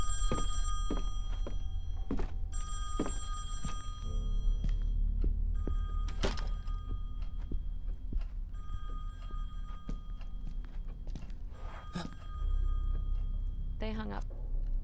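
Telephone ringing in a horror video game, repeated rings with dull thunks between them over a low ambient drone, with a voice talking.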